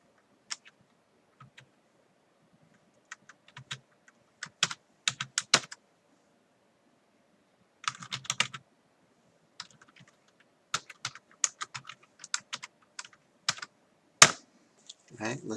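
Someone types code on a computer keyboard in irregular clusters of crisp, close keystrokes, with quiet gaps between bursts of clicking.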